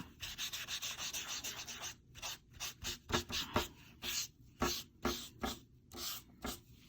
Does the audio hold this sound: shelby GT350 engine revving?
no